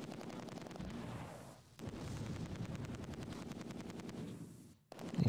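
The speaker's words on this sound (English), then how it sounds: "This mortar is doing work." Mortar fire from the Close Combat 2 war game keeps up a steady barrage of dull thuds and crackling gunfire, loud and dense, with brief lulls around two seconds and near the end.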